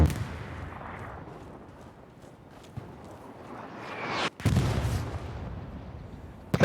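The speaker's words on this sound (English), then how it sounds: "It's like they're chasing me with artillery" Artillery shells landing around a player in the World War II shooter Hell Let Loose, heavy booming impacts and rumbling blasts, one close and very loud near the end, under ongoing battle noise without speech.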